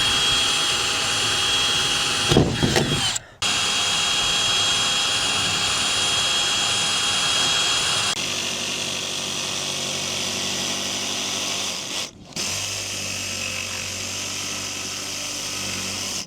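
A power tool cuts holes in an inverter support board, a loud continuous whining drone with two brief dips where the cut pauses, close and steady with no speech.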